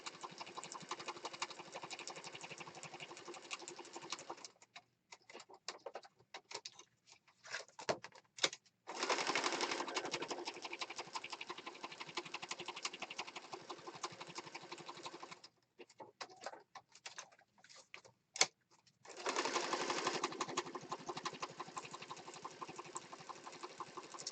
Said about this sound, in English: Sewing away.